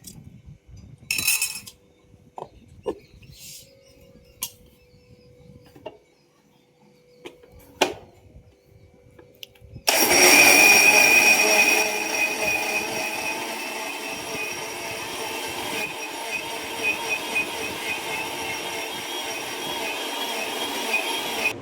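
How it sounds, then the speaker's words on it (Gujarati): A kitchen mixer grinder whirs loudly and steadily as it grinds soaked rice with a little water into dosa batter, starting abruptly after a stretch of quiet clinks and handling noises and running continuously to the end. "પેલા આપણે ચોખા નાખી દઈએ અને મિક્સરમાં આપણે કાઢી નાખવાનું."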